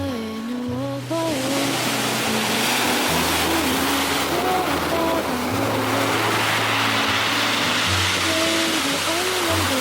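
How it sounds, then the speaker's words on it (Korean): Night ocean waves wash onto Jeongam beach in Yangyang, a steady broad surf roar running throughout, with a low droning hum and tonal whistling layered over it. "저희는 파도를 갖고 있어요."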